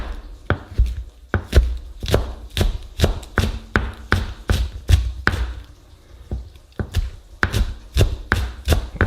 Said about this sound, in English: we're going to cut up some chives as a garnish